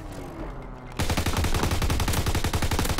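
Sustained automatic gunfire at biplanes in Call of Duty: WW2, a rapid, even burst of loud shots starting abruptly after a second of quieter game ambience and running to the end.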